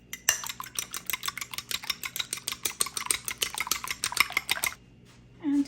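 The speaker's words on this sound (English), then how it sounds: "Beat the eggs until they're frothy." Eggs are beaten until frothy in a dish, a fork or whisk tapping rapidly and steadily against it for about four seconds, then stopping.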